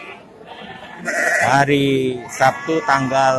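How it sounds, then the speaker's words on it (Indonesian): Merino sheep bleat loudly and repeatedly at a busy livestock market in Bumiayu, their wavering calls overlapping a man's speech nearby. "Domba merino di Pasar Wage Bumi Ayu pada hari ini"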